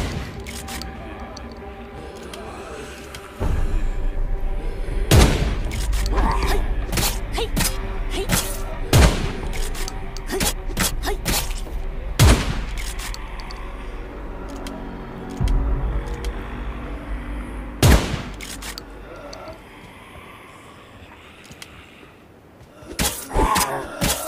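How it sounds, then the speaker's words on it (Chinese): Gunfire rings out in the CODE LIVE beta, a survival shooter with infected creatures: loud, sharp single shots spaced irregularly over ambient game noise, with a few louder bursts near the end. "枪声会引来更多感染者，得赶快离开这儿。"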